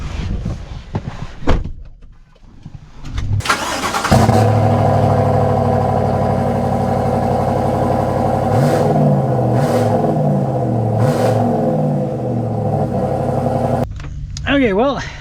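A 2025 Chevy Silverado Redline Edition V8 pickup pulls away and accelerates, its deep engine drone rising steadily and loud from inside the cab after a door thump, with a few pitch sweeps as it climbs through gears and talk at the start.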